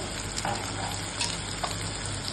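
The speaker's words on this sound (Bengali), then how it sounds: "আর স্বাদ মতন চিনি সব দিয়ে ভালো করে এবার মশলাটা কষে নিতে লাগবে।" Masala of red chilli, turmeric, cumin and coriander powders with sugar fries in a pan and is stirred, a loud steady sizzle with a few soft spatula scrapes, no voices.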